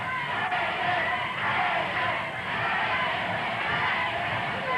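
Steady roar of a pro wrestling arena crowd during a half crab submission hold at a Portland match, broad sustained cheering and shouting that swells slightly and stays continuous throughout.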